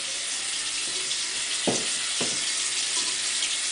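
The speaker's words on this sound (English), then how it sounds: "Washing my hands." Hands being washed under a running tap at a sink: a steady, close rush of water that runs throughout, with a couple of short clunks partway through.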